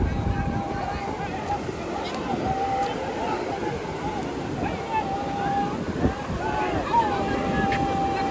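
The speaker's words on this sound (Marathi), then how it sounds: "एकदम अशी लाट इली ना त्या लाटीन सगळा पाणी वरती इलेला" Rough, churning sea waves surging along the shore during traditional rapan net fishing, a dense continuous wash buffeted by wind on the microphone, with faint voices in the background.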